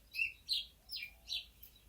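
Grey warblers and shining cuckoos chirping, four or five short, bright, high calls spaced about a quarter second apart over a quiet background.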